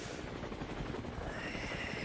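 A helicopter flies overhead during the final kilometres of the men's Clásica Jaén Paraíso Interior cycling race, its rotor throbbing in a fast, steady, loud chop that fills the whole moment.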